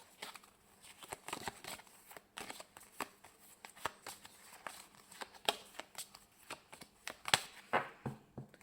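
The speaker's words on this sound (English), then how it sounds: "Pop that in there, give them a little bit of a shuffle up" Tarot cards being shuffled by hand during a reading, a run of quick papery riffles and soft slaps with brief crisp snaps, close and fairly quiet, with no voices.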